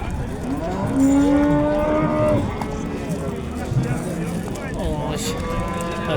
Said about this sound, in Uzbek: Sigir bozorimizda bugun sigirlar ancha ko'p.